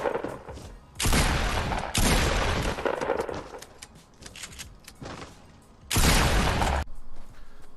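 Loud bursts of automatic gunfire in a Fortnite battle royale gunfight, several separate volleys with short pauses between them, alone without talk.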